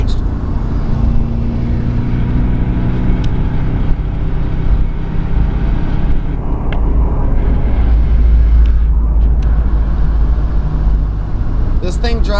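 Old four-wheel-drive Subaru driving with four-wheel drive engaged at around 50 to 55 mph, a steady low engine and road drone heard from inside the car, with someone talking over it.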